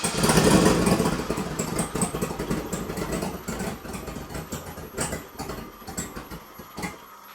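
A turbocharged truck with straight-pipe exhaust idling close by, a rough, uneven rumble that loudens briefly at the start then settles and fades slightly, with faint clicks and no speech.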